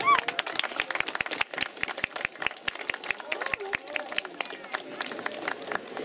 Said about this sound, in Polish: Brawo dla nich, wielkie brawa!